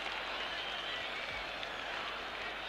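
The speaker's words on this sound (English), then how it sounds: "crowd go wild" Crowd noise fills a rugby stadium at a 1974 South Africa versus British Lions test match after a Springboks try, a dense, steady roar that stays level throughout.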